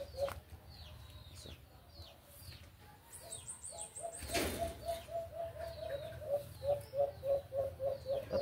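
Young pigeons land and coo outdoors, with soft repeated coos building into a steady rhythmic series, plus faint chirps and a brief fluttering rustle midway, all fairly quiet and distant.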